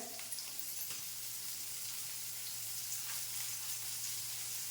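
Sliced onions sizzle in a hot pan for a spinach and egg stir-fry, a steady, faint hiss of frying throughout, with a brief clatter at the very start.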